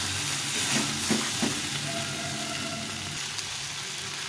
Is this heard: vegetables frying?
yes